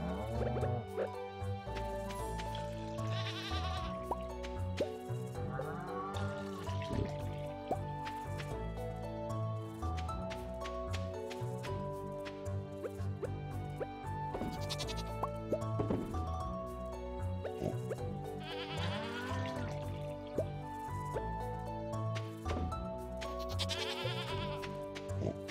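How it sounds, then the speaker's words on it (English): Sheep and goats bleat in a video game, several short cries scattered over dense, continuous game music with watery dripping and squishing effects throughout. "Okay, two sheeps. What else? Two sheeps, two goats."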